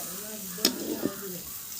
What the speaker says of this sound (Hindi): चूल्हे पे सब्जी छौंके हैं।